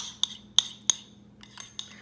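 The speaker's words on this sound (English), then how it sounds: "We're just gonna crack our eggs." Eggs are cracked against the rim of a bowl while making paleo pumpkin muffins, several sharp close taps spaced irregularly over two seconds, with faint clinks between them.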